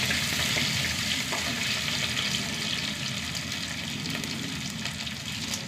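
Sliced shallots, garlic, ginger and dried chilies frying in oil in a pan, a steady dense sizzle with faint stirring, loud and close throughout.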